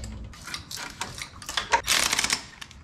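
A wrench ratchets in quick clicking bursts, tightening an engine mount bolt during a TDI engine and 02J gearbox swap into a Mk1 Rabbit pickup, with the clicks close and fairly crisp.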